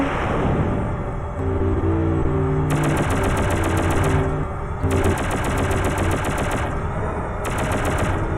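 Rapid machine-gun fire from the alien shooter game Shockwave Assault, loud, sustained bursts that start and stop several times over a steady engine-like drone.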